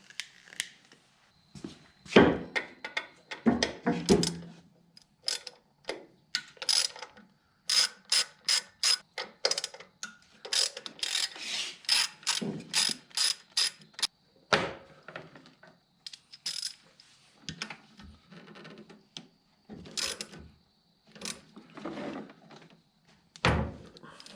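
A ratchet wrench clicks in quick, repeated bursts as it backs out bolts holding the starter on an abandoned lawn mower, close up with short pauses between runs of clicking.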